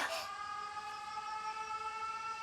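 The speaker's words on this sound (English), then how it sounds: "The sirens. This is bad." A sustained air raid siren in the video game 13 Sentinels wails with a steady tone after a brief noisy burst at the start, droning on evenly at moderate volume.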